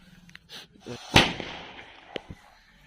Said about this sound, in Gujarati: હવે આપણે મચ્છી બમની ટેસ્ટિંગ કરી રહ્યા છીએ